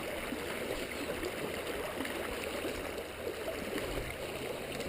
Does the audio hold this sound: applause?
no